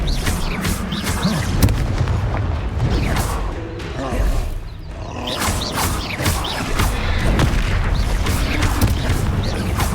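Booming blast-spell explosions and crashing impacts from Confringo casts in the game Hogwarts Legacy, a dense, continuous battle din with repeated heavy bursts and a short lull midway.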